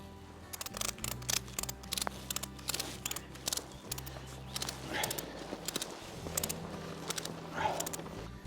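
A ratchet strap on a Tentsile Stingray tree tent is cranked tight outdoors, a run of rapid close clicking that comes in several short bursts with brief pauses between.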